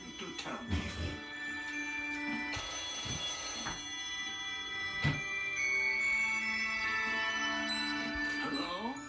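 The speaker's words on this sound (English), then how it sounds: "Whenever Sanamo calls me on this phone, he has something important to tell me" A telephone rings at home in a Christmas setting, a steady bell-like tone repeating for several seconds against a busy background of other sounds, moderately loud and fairly near.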